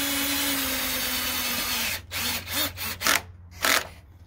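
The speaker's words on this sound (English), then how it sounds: "then it screws all the way in" A screw is driven into a wooden gate with a power drill: a steady whirring drive for about two seconds, then several short bursts as the screw seats, close and clear.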